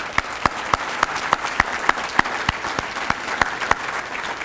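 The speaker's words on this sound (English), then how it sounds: "Would committee members please stand and let's give them applause." Audience applause for district committee members standing at a State of the District address in Arlington, with steady clapping from a crowd throughout and a few sharper, louder claps standing out at regular intervals.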